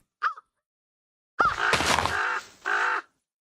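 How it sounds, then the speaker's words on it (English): Bird calls ring out in Minecraft, loud and close: a short squawk, then after a pause a longer harsh cawing burst and one final cry. "The bird was a little intense."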